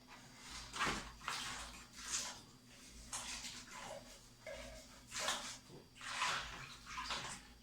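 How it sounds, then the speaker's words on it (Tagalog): Coffee is stirred into liquid ingredients for fermented plant juice, making soft, repeated swishing and sloshing waves of water at a quiet, close level. "paghahalu-haluin lang natin ang ating mga ingredients. Una, kape."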